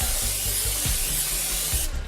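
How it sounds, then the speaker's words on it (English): A continuous loud hiss of cooking spray aimed into a pan, lasting about two seconds before cutting off. "Here's a little bit of cooking spray in there."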